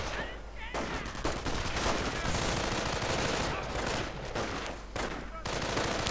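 Mortar rounds and gunfire in the Company of Heroes battle, with dense, continuous bursts of rattling shots and booming impacts packed close together.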